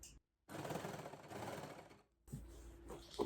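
A domestic sewing machine runs in two short bursts, sewing a band onto a cardigan neckline, with a rapid close mechanical chatter and a brief pause between the runs.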